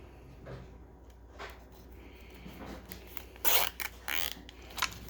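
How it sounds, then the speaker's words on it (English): A plastic zip tie ratcheting tight around a car seat belt webbing, with close, short rasping bursts and clicks standing out from quieter handling noise. "I'm going to put a little zip tie around it right here, just to hold it from retracting."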